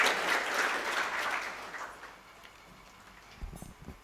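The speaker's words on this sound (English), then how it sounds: "Let us give him a clap even as we welcome him." Audience applause at a commissioning ceremony for a scholarship leadership program: a burst of many hands clapping that is full at first, then thins and fades over a couple of seconds, leaving a few scattered thumps.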